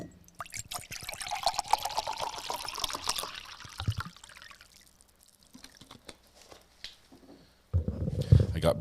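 Water being poured, a continuous trickling stream heard close up for several seconds before it tapers off, followed by a louder burst of handling noise at the end.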